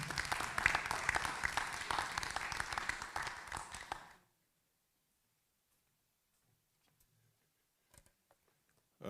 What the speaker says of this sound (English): You could clap and welcome him, you know.